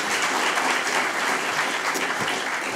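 Steady, dense audience applause at a festival talk, many hands clapping at once and holding an even level throughout.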